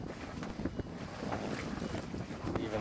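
A sailboat underway with its engine off, steady wind rushing across the microphone and water washing along the hull, a continuous close roar with small gusts and splashes throughout.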